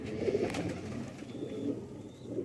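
A pigeon coos softly nearby, low murmuring calls repeating against a quiet background.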